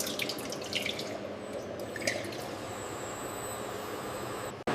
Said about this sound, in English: Sorbitol and purified water are added next.